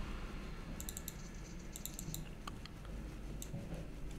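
Keys pressed on a computer keyboard to enter a hexadecimal value in a Windows 10 settings window: a few scattered, light clicks in short clusters over a steady low hum of background noise.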